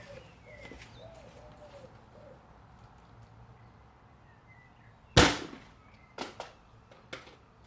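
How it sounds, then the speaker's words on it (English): A homemade rocket fired from a garden launcher lets out one sharp, loud burst of launch noise, followed by a few smaller pops, with birds calling faintly in the background before it. "the launch did work, albeit it went into a different direction, but it took off with some force"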